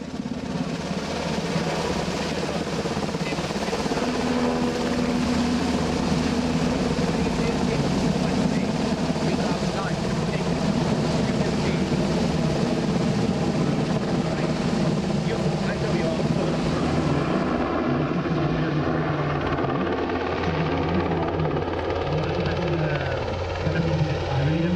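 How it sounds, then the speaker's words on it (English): A Spanish military NH-90 helicopter flying at the Festa al Cel air show, a loud continuous rotor and turbine roar, steady throughout with a slight shift as it passes. "The helicopter is tasked with troop transport, search and rescue, and medical evacuation."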